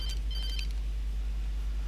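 An old-style telephone rings inside the Alan Wake video game. The bell sounds in short bright bursts at the start over a steady low hum, then stops, leaving only the game ambience.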